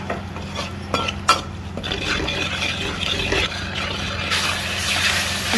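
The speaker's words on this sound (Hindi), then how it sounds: "सारे सूखे मसालों को पहले हम ऑयल में भून लेंगे।" Dry spices are stirred into hot oil in a pan for paneer curry, with a soft steady sizzle, scraping spoon strokes and a few clinks of utensil on metal.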